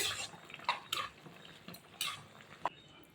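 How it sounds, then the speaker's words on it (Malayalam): A spoon stirs Kerala-style chicken biriyani in a pot, giving a few sparse, soft metallic scrapes and clinks spread over about three seconds in a quiet kitchen. "ഒന്നുകൂടെ ഇളക്കി കൊടുക്കാം."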